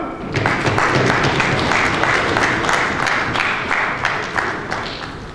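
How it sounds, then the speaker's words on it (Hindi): Banquet guests at an annual district convention give loud, sustained applause, a dense roomful of clapping that stays steady from start to finish with faint crowd murmur underneath. "आप सबकी भरपूर तालियों में"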